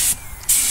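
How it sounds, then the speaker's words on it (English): A spray gun hisses in two short, loud bursts of pressurized clear coat spray, separated by a brief pause, while a second coat of clear is applied to a Dodge Challenger SRT Hellcat. "So now we're gonna go ahead and put the second coat of clear on."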